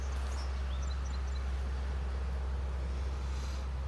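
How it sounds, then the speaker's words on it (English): A neighbour's tractor working through nearby fields gives a steady, low engine rumble that holds constant throughout, with faint birdsong chirping above it. "Ed next door is passing his tractor through his fields."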